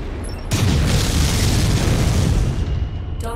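A fuel tank blows up in the mech combat game MechWarrior 5, bursting into a loud, deep boom that rumbles and roars for a few seconds before fading.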